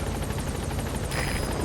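The Pequod support helicopter from Metal Gear Solid 5 hovers at the landing zone, a steady rhythmic rotor chop with a continuous engine whine, close and loud, with no talking.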